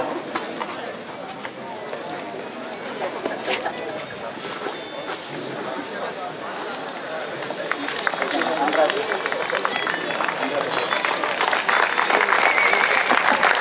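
An audience claps at a college event marking the release of the EE06 profile book, a dense, steady patter that grows louder toward the end, with crowd voices mixed in.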